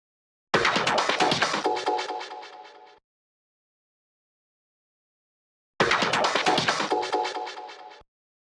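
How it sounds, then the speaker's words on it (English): Processed drum fill built from three layered loops, playing as two dense, punchy bursts of about two and a half seconds each, separated by silence, loud and alone with no talk. "Now we got this drum fill as well."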